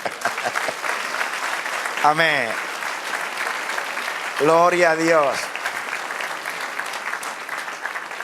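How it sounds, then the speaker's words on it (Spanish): A church congregation applauds during a Spanish-language sermon, sustained dense clapping filling the whole stretch at steady loudness, with voices calling out briefly over it twice. "Denle un aplauso al Señor."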